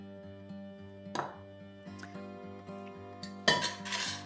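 Pan-fried dates and nuts, softened in ghee, being scraped and transferred out of a pan: a few metallic clinks and scrapes of utensil against pan, ending in a louder clatter near the end, with no talking.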